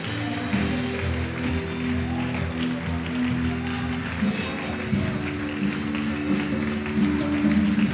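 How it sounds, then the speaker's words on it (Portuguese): A church congregation applauds during a sermon, giving a steady, dense wash of clapping for the full stretch with sustained instrumental tones humming underneath. "Pode aplaudir o Senhor e glorificar a Deus."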